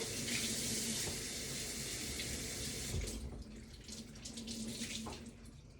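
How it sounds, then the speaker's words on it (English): Water from a tap pours steadily onto a rag at a sink, a continuous close hiss and splash that thins out halfway through as the stream is interrupted and handled, with no voices. "We're gonna wet a rag."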